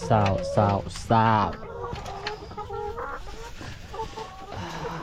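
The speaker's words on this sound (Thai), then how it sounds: "อันนี้ก็คือเป็นคอกไก่ของเฮา" Chickens cluck and squawk inside a farm coop, a few loud close calls up front followed by a steady scatter of softer clucking from the flock.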